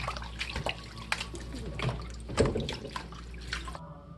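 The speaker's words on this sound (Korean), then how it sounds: "흔들어 씻으세요." Trimmed shepherd's purse greens are shaken and rinsed by hand in a basin of water, giving soft irregular sloshing, splashing and dripping close up, with a brief louder swirl midway.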